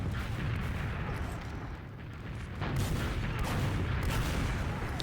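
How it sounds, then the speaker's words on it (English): Rocket blasts from a competitive video game land in heavy, rumbling booms, with dense explosive noise that dips briefly and then builds again, loud and continuous. "rockets"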